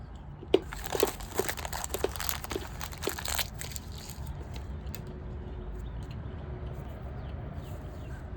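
A 1987 Topps baseball 17-card wax pack being opened: crinkling wax paper and a few sharp tearing crunches near the start, then quieter rustling and handling close to the microphone, with no talking.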